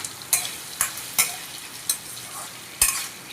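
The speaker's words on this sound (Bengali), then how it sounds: "ওতে ভেজানো ছোলা বাদাম একে একে দিয়ে ভালোভাবে নেড়ে নিতে হবে" Soaked chickpeas and peanuts fry in a pan while a spatula stirs them, about six sharp scraping strokes over a light sizzle, close and clear.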